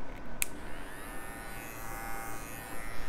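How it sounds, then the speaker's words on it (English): A TPOB X electric hair clipper runs steadily with a fine, even motor buzz and higher whine, continuous and close for the whole stretch, with no talking over it. "very nice sounding clipper"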